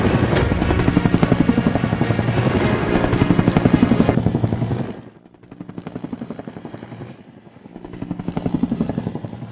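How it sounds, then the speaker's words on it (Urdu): A helicopter flies with a loud, steady rotor chop that drops away briefly midway, then returns with rhythmic thumping. "ناظرین اب ذرا اس ہیلی کاپٹر کے ڈرائیور کی مہارت تو چیک کریں آپ۔"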